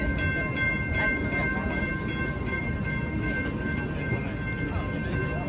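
A train rumbles past close by at Comic Con in San Diego, a steady loud low roar of rolling rail cars with faint high tonal squeal lines, holding constant throughout with voices faintly mixed in.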